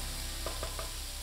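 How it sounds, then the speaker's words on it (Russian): A utensil stirs onions and chicken sizzling in a pan over high heat, with a few soft scraping strokes over a steady frying hiss. "Регулярно мешайте."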